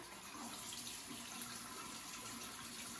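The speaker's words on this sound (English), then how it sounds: "So I'm gonna turn on some warm water here." Warm water runs steadily from a bathroom tap into a sink, a soft continuous hiss and splash with no voices.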